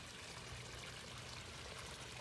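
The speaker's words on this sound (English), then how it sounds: "3 filters are running. There's 2 sponge filters and the submersible pump that's pumping water to the bottom of the fountain." Water from a submersible pump pours into the base of a small garden pond fountain with sponge filters running, a faint, steady trickling wash with no break.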